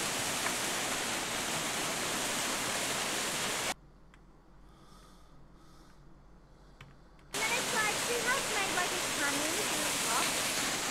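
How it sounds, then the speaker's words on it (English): A waterfall roars as a loud, dense, continuous rush that cuts abruptly to near silence for a few seconds, where faint voices are heard, then resumes just as loud. "I hate the way waterfalls sound."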